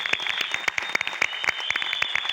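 Dense, steady applause and clapping from a meeting audience, loud and continuous throughout.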